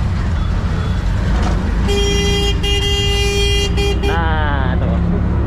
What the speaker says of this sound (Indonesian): Jangan heran kalau banyak klakson di sini.